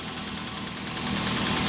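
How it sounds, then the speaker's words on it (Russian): An Opel car engine idling with a ticking valve, a dense close-up mechanical rumble with rapid knocking texture running steadily throughout. "Сейчас у меня немножко постукивает клапан."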